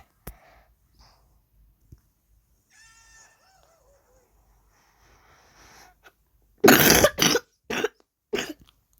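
Several harsh coughs burst out close and loud near the end, after a quiet stretch of faint scattered sounds.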